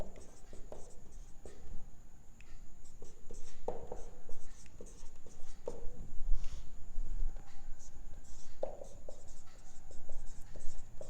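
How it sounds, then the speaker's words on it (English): Pen scratching across paper in short bursts while calculations are written out by hand, soft and close, with faint background noise. "I shall write directly"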